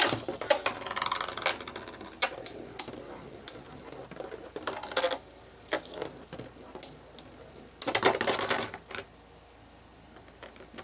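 Dran Sword Beyblade spinning tops collide in a stadium, sharp irregular clacks and rattling hits in quick bursts over a steady faint whir, close and fairly quiet, with a dense flurry of impacts near the end.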